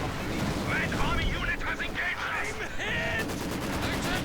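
Machine gun fire in a World War II real-time strategy game, with an MG42 and a Maxim trading bursts, heard as dense rapid shots mixed with other battle noise and a commentator talking over it.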